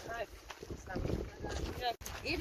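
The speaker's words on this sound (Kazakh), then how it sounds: "Җил, конечно." Gusty mountain wind buffets the microphone during a motorboat outing among the Haftkul mountains and lakes, a steady broadband roar with low rumbling that drops out for a split second near the end, while voices talk faintly underneath.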